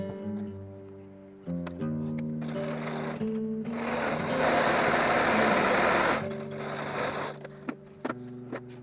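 A home sewing machine stitches a scant quarter-inch seam on a quilt block made from jelly roll strips, running in several steady bursts with brief pauses, close and fairly loud, with no talking.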